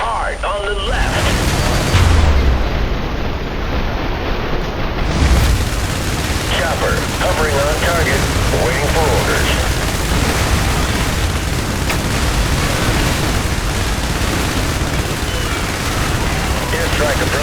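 Explosions and gunfire in a harbor battle of the video game IS Defense, heavy booms and continuous rattling fire layered densely and loud throughout, with a radio voice speaking over the combat.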